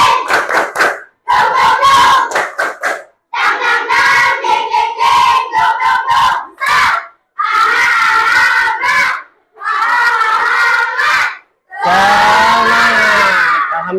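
A classroom of students in Indonesia chants a loud, rhythmic spirit cheer together with bursts of patterned clapping, delivered in several energetic phrases separated by short pauses and ending on a drawn-out shout.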